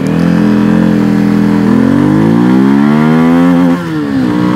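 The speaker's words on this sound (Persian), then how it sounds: "بریم با CF250 تکسیلند هم یه تاپ اسپید بزنیم هم گیری بوکسش رو تست کنیم" A CFMoto CF250 NK motorcycle accelerating hard on a top speed run. The engine note is loud, close and steady and climbs in pitch, then dips briefly at a gear change before rising again.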